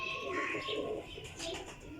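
Pigeons coo in a breeder's loft where Amritsari pigeons are kept, soft throaty calls rising and falling over about two seconds while someone talks nearby.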